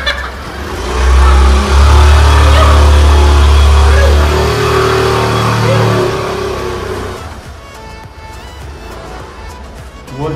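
A car engine revs hard while the vehicle drives up a steep slope, a loud low droning roar that builds and holds for several seconds before easing off.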